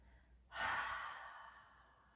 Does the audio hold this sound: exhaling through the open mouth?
yes